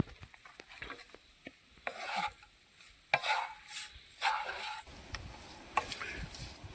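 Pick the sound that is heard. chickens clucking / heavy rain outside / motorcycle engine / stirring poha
stirring poha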